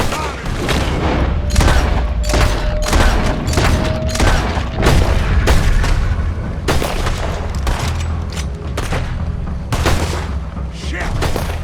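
Dense gunfire in Red Dead Redemption 2, rapid overlapping shots and booming blasts that go on almost without a break, loud and near, with voices shouting over it.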